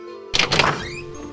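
A door thunks open with a short clatter of latch and movement, then a soft airy rush lingers after it.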